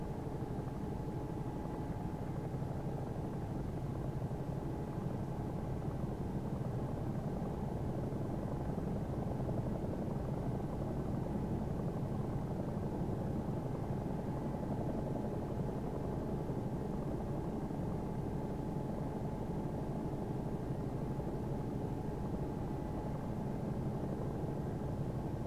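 Steady helicopter engine drone in the X-Plane flight simulator, a continuous low rumbling whine with a faint high tone, unchanging and alone throughout.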